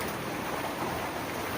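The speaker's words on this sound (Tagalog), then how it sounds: "bumugso na naman yung ulan" Heavy rain pours steadily onto a yard on a wet afternoon, a dense, even hiss of downpour with no breaks, fairly close and with no one speaking.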